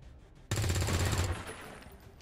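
A sudden burst of rapid gunfire rings out in the video game XCOM 2, loud and close, rattling for under a second before it trails off into a fading echo.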